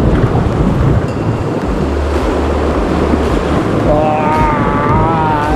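Rushing river water roars steadily around a raft near a waterfall in Bali, a loud, dense wash with wind buffeting the microphone and brief voices near the end.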